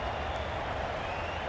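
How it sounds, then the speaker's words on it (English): Dense, steady roar of a large stadium crowd cheering at a cricket match in Ashes 2022, a continuous wash of voices and applause with no individual sounds standing out. "Will you listen to the crowd? They are loving it."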